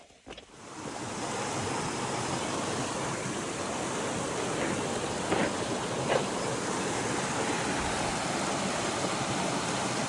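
Steady rushing of flowing water, like a stream or outflow emptying a pond along the Appalachian Trail, a constant broadband wash heard close and moderately loud with a few faint knocks, no voices.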